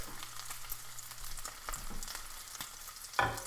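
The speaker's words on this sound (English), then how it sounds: "there's the bacon cooking." Bacon frying in a pan, a close, steady crackling sizzle with a few pops and a brief utensil clink near the end, no talking.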